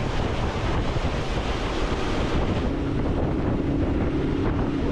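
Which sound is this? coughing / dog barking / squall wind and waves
squall wind and waves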